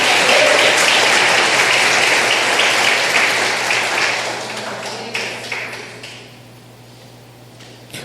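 A church congregation applauds the Lord during a service, starting loud and full and then tapering off, with scattered claps thinning to near quiet by the end.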